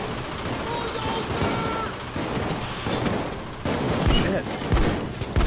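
Sentry turret gunfire in the video game Payday 2, a dense, steady rattle of rapid shots running throughout amid other chaotic combat noise, growing heavier toward the end.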